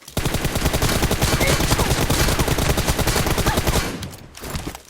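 Rapid automatic gunfire from PUBG Mobile played on an iPhone SE 2020, a loud continuous burst of shots lasting about four seconds before tapering off, with a brief short burst near the end.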